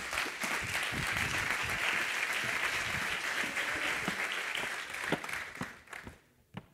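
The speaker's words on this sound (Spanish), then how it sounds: "un aplauso para ellos" Audience applause at a Spanish business technology conference session: sustained clapping that tapers off over several seconds, ending in a few scattered claps and near quiet.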